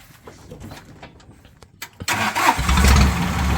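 A small three-cylinder engine cranks with clicking and whirring, then catches and settles into a steady rumbling idle, loud and close.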